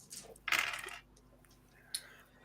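Dice rolled onto a table during a tabletop game, a brief clattering burst followed by a smaller rattle a moment later, close by and quiet, with no talk over it.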